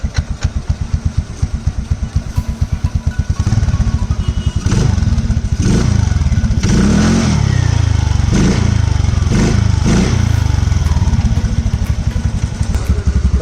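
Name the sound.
TVS Ntorq scooter engine revving with air filter removed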